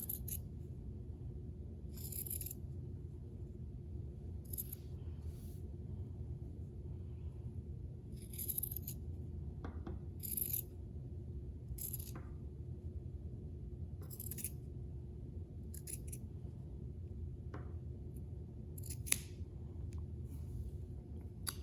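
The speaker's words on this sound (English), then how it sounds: "But I've just got scissors, so that's what I'm using." Repeated crisp snips of scissors cutting fabric into strings for ear loops, a series of short bursts spaced irregularly over a steady low background hum.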